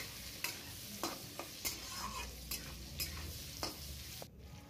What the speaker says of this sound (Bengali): এবার আলুগুলো একটু লাল লাল করে ভেজে নেব